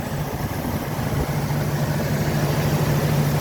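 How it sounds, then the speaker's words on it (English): A 1983 Mustang GT 350 engine with about 103,000 miles idles in a steady, low rumble with a constant hum and no speech, close and fairly loud throughout. "Engine does sound good for its age."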